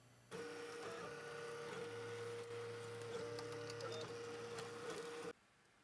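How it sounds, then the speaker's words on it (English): A 3D printer prints the body of a small garbage container, its stepper motors whirring and humming in shifting tones for about five seconds before stopping; close and steady, with no speech. "What I'm going to do now is print this entire body."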